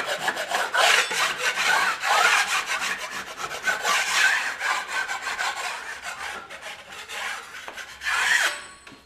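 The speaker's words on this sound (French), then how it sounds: "J'ai donc égrené cette partie, je vais égrener celle-ci." Dried plaster filler on a blistered wall is sanded down by hand in steady back-and-forth abrasive rasping strokes, close and continuous for the whole stretch with no talking.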